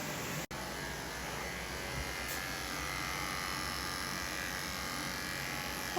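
Electric clippers buzz steadily while a dog named Kobe gets a Thanksgiving haircut, a constant close motor drone with one brief click near the start.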